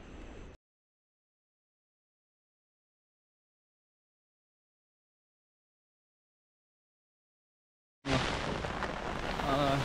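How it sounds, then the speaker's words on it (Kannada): Heavy rain pours down loudly in a steady roar in a forest in the Kudremukh range, cutting in briefly at the start and returning abruptly after a long silence. "ಹೆವಿ ಮಳೆ ಬರ್ತಾ ಇದೆ"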